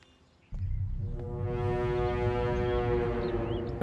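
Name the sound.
car horn being honked outside a house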